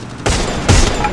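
Gunfire in the mobile battle royale Free Fire Max, two loud blasts about half a second apart against a steady game background.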